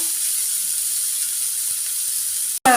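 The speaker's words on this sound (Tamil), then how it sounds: "இப்போ எல்லாம் பொரிஞ்சிட்டு நம்ம கட் பண்ணி வச்ச வெங்காயத்தை சேர்த்துடுவோம்" Chopped onions dropped into hot oil with frying lentils, giving a sustained bright sizzle and hiss close up, steady throughout, with a brief cut near the end.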